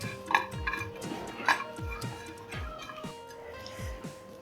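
Dry coconut being dry-roasted and lightly tossed in a pan, giving a series of soft metallic knocks and light scrapes about every half second, close and fairly quiet, with no voices.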